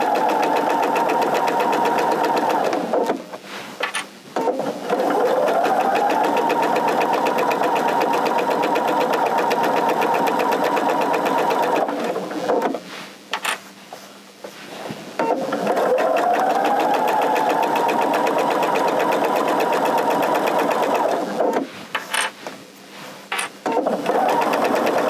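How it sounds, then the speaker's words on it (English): A sewing machine stitching fabric for a reading pillow with rickrack trim, sewn a quarter inch from the edge, running in long steady mechanical runs with brief pauses between them, close and fairly loud. "just going to stitch with a 1/4 inch seam allowance, 1/4 inch from the edge of my fabric"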